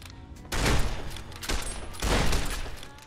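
Gunfire in Fallout New Vegas during a fight, two loud bursts of shots roughly a second apart with rumbling tails between, close and dense, no talk over them.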